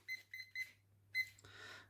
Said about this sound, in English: So now let's start the timer, set it to 3 minutes,